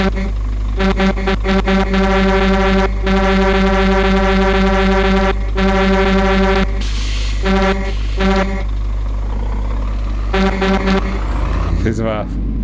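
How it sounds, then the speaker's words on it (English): A truck's air horn, sounding like a deep ship horn, blares in repeated long blasts over a steady engine drone in a truck-driving simulator game on PS4, with brief gaps between honks and an engine rev near the end. "It's just a region out horn sound they probably bought it somewhere. Just ripped it. It's one of these ship horns,"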